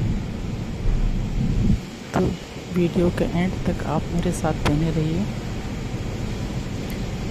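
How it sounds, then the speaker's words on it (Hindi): Steady heavy rain hisses like a broad wash of noise throughout a storm, with a low thunder-like rumble, while someone talks over it in the middle. "बारिश दोबारा शुरू"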